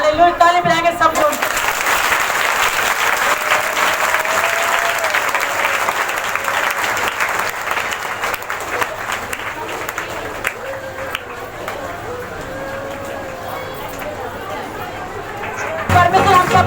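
A congregation at a Sunday healing meeting claps hands together, loud sustained clapping amid crowd chatter and voices, continuing for several seconds before easing, with a louder burst at the very end.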